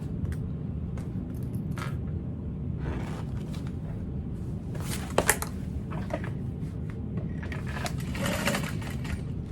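A sewing machine stitches a handbag seam at a construction stitch length, a steady close mechanical whir running continuously with a few small clicks and handling noises on top, no talking.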